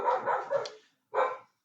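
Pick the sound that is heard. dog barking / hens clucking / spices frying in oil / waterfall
dog barking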